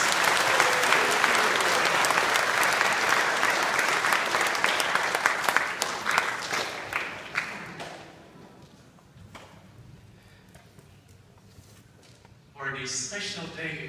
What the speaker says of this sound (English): Let's give our mothers a round of applause.